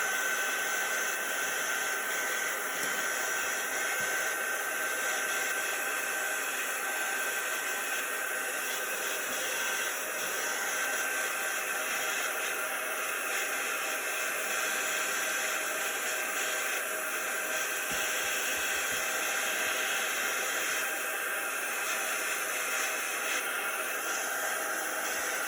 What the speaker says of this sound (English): So let's get our drying tool.